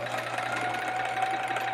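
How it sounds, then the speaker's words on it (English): A sewing machine stitches rows of a chevron quilt, a steady close, fairly quiet motor whir with a fine rapid needle rattle running throughout. "So I wanted to just get this all sewn"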